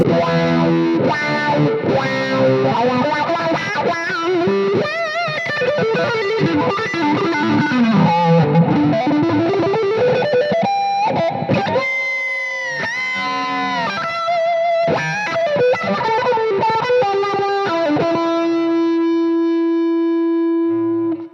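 Distorted electric guitar played through a wah-wah pedal set to a low Q factor, giving broad, gentle sweeps across riffs and sustained chords, with the final note ringing out alone.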